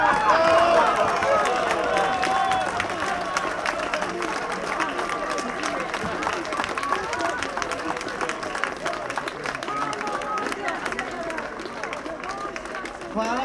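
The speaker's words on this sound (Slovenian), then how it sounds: "Hvala tudi gospodu Petriču in tudi še za njega še en velik aplavz" Applause from an audience at a Slovenian political event, steady clapping from many hands sustained throughout at moderate loudness, with a voice speaking over it.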